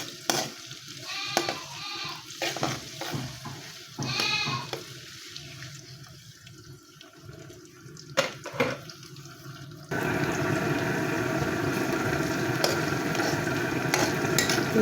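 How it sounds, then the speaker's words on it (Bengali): Chopped chilli, onion and garlic stirred and fried in a pan, with a steady close sizzle, scraping stirs and brief bursts of tap water, the frying growing louder and denser toward the end. "এখন আমি এগুলো নেড়ে চেড়ে ভেজে নেব।"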